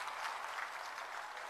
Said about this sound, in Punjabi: ਇੱਕ ਵਾਰ ਜ਼ੋਰਦਾਰ ਤਾੜੀਆਂ ਚਾਹੂੰਗਾ ਮੈਂ ਉਹਨਾਂ ਦੇ